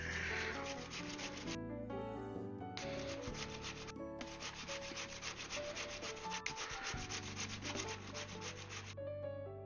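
Potatoes and onions grated by hand on a metal grater for latkes: continuous rhythmic rasping strokes, close and steady, broken by a couple of short pauses, with no voices.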